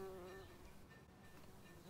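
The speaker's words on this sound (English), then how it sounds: "So this bee is trying to collect his pollen and he's having some difficulty." A bee buzzes close by around a rose bud in a garden, a faint, steady insect drone with small wavering shifts in pitch, heard alone.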